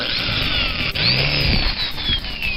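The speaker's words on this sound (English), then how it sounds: "I need to drill a starter hole." A power drill drilling a starter hole for a saw blade whirs steadily with a rising and falling motor whine, loud and close, running continuously with no talk.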